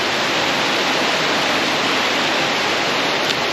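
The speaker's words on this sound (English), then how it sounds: "Oh, waterfall." Steady, loud roar of a waterfall in Concrete, Washington, a dense continuous rushing of water heard up close without pauses.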